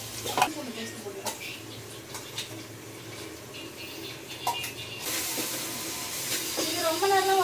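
Ginger garlic paste fries in a hot pan, giving a soft continuous sizzle with scattered clicks and a few utensil taps, under someone talking.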